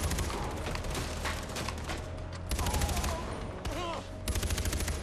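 Gunfire in the Far Cry 4 video game on Xbox One, sustained bursts of automatic shots layered over a continuous game soundscape, loud and dense throughout with short breaks.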